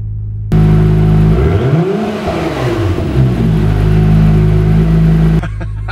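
In track mode, a 2019 Acura NSX exhaust roars loud and close, its revs swooping up and back down over a steady low drone before stopping sharply.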